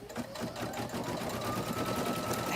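Embroidery machine stitching a placement line on background fabric for a wall hanging: a steady, fast, continuous mechanical whir and needle chatter at close range, even and uninterrupted throughout.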